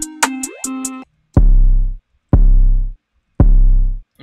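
An uncompressed 808 bass drum booms three times at regular intervals, each hit deep and long with a clicky attack, following a short plucked synth figure at the start.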